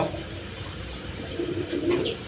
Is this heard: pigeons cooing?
yes